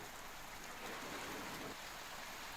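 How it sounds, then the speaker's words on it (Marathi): Pre-monsoon rain falls steadily in Sindhudurg district, a dense, even hiss of rain on surfaces that swells slightly midway, with no voices. "सिंधुदुर्ग जिल्ह्यात सकाळपासून मान्सूनपूर्व पावसाला सुरुवात झाली"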